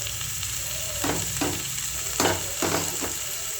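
Mushrooms fry in oil in a pan for a mushroom tomato curry, a continuous sizzle broken by several scraping stirs of a utensil, close and fairly loud, with no speech.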